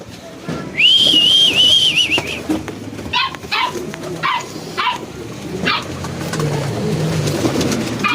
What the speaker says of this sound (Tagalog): Yung mga ganitong kalapati mabilis maturuan, eh.